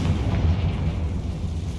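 A Confringo spell blast in Hogwarts Legacy: a loud, sustained low boom with rumbling debris that holds steady and fades slightly, with no voices.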